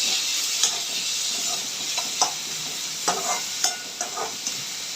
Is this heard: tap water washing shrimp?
no